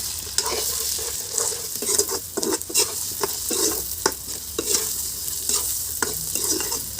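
Meat sizzles in a pan with onions and spices while a spoon stirs and scrapes through it in repeated strokes, a close, steady frying hiss with no talking.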